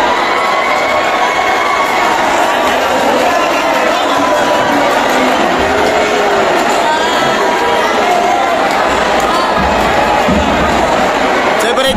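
Rowdy crowd at a heated basketball game, loud continuous cheering, shouting and chatter filling the space throughout, with a commentator's voice mixed in.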